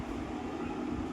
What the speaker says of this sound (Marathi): फास्ट निघाली आता ट्रेन.